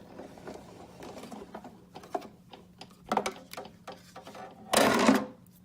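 A sewing machine runs a stitched line along the sides of a case, sounding as short mechanical bursts of whirring and clatter, ending in one louder, sustained run of stitching.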